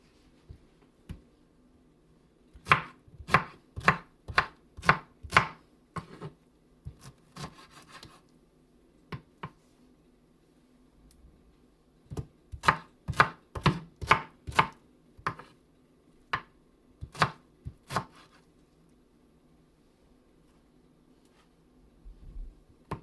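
Fresh pineapple chopped with a knife on a cutting board for watermelon pineapple juice: two runs of sharp, rhythmic knife strikes, about a dozen each, separated by a pause of softer handling sounds, close and clear with no speech.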